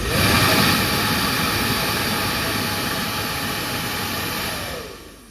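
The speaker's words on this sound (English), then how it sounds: "We have a hairdryer," A steady, loud hair dryer blows continuously through a straw over a cup of water, a broadband whooshing roar that holds for several seconds and then cuts off near the end.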